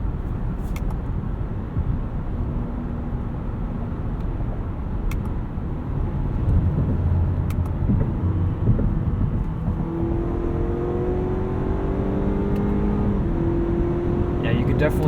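A 2017 Cadillac CT6 in sport mode accelerates from inside the cabin, a steady engine drone rising and stepping through quick gear shifts, with faint road rumble and a voice talking over it.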